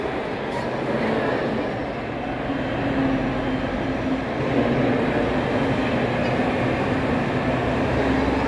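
Riding inside a moving tram: a continuous, loud rolling rumble with rattling and steady mechanical noise throughout, with faint background voices.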